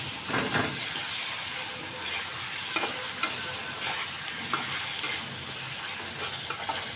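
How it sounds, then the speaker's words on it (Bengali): Potatoes are stir-fried for a curry, a steady close crackle and hiss of oil with occasional spoon clacks against the pan punctuating the continuous sizzle. "আলুটা কষাই নিতেছি।"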